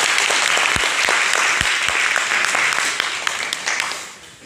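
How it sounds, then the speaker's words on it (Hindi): Loud, sustained applause from a crowd at a ceremony, dense clapping with a few sharp individual claps standing out, tapering off toward the end. "तो अगेन जोरदार तालियां प्लीज सर"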